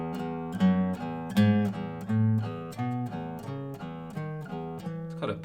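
Guitar scale played with an on-off pattern, each scale tone followed by the repeated open tonic note as a pedal tone, starting on a double open note; clean, steady plucked notes in an even rhythm, close and moderately loud, with no talking.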